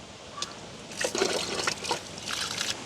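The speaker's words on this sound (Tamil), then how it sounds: "பருப்பு நாங்கள் ரெண்டு மூணு தண்ணியில் நல்ல வடிவாக கழுவி எடுத்துட்டேன்" Lentils are rinsed by hand in water in a village kitchen, with gentle sloshing, trickling and dribbling sounds close to the microphone and nobody speaking.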